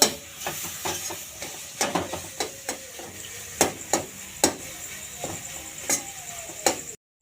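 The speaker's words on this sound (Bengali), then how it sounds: "এবার আমি ছানাটা দিয়ে দেবো প্রথমে দিয়ে নাড়াচাড়া করবো বেশ কিছুক্ষণ গ্যাসটা আমি একটু লো রাখবো" Chhena for sandesh is stirred in a kadai over low gas, a run of repeated sharp scraping knocks of a spatula against the pan over a faint, low sizzle, close and uneven in rhythm, with no voices.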